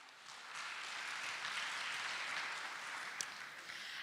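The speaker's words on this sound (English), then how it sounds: "A round of applause for our superb Kentrade team" Steady audience applause from a crowd at a live event, a dense continuous patter of clapping holding at moderate level throughout with no talk over it.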